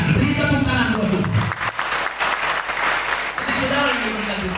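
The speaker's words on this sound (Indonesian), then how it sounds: "Beri tepuk tangan buat Tuhan" A congregation at a church service applauds for God, with loud, dense clapping from a crowd, and a preacher's voice speaking over it at the start and again near the end.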